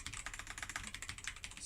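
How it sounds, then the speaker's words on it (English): Alienware AW768 keyboard keys clicking in a rapid, steady typing rhythm, close up and fairly quiet, with no voices. "compare the clicking sounds of the Alienware keyboard"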